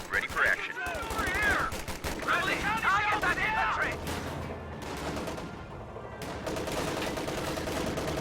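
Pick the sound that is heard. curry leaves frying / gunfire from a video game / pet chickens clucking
gunfire from a video game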